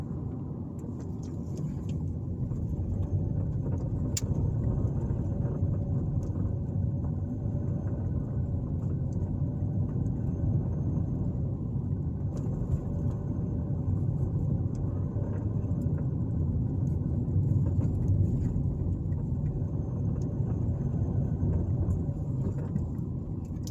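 A car drives along a residential street in Greenville, Alabama, its steady low engine and road rumble heard from inside the cabin, continuous and unbroken, with no talking.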